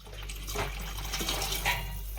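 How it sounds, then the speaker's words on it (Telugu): Water is poured into a cooking pot, making a brief, close splashing gush that runs steadily for a couple of seconds. "వాటర్ కూడా అయితే వేసుకుందాం."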